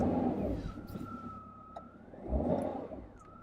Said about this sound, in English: We're going to start it up and hear what she sounds like.